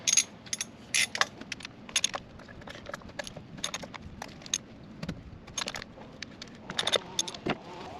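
A 12 mm wrench working the intake manifold nuts and bolts on a Kia Soul, with sharp metallic clicks and clinks in irregular bursts over a quiet garage background.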